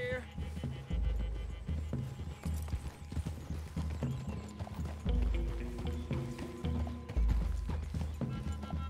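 Hooves clip-clop steadily as a horse walks through trees in Red Dead Redemption 2, with game music, tack rattle and characters talking over the hoofbeats.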